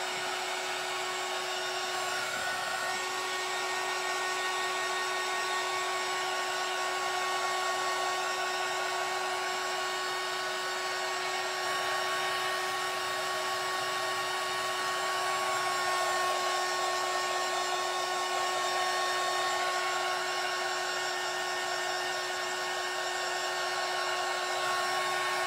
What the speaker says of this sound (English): What I'm going to do is go ahead and dry this part